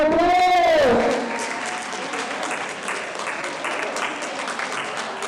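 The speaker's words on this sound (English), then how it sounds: "Please give them a round of applause." A crowd at a school track and field finals applauds a house team, steady clapping carrying on for several seconds after a brief whistle or cheer at the start.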